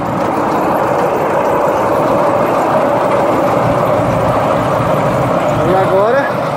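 A tractor pulls a hay baler, rolling up a bale of hay in a field; a steady, continuous engine drone runs throughout at close range, with a rising whine near the end, and some voice sits under the noise.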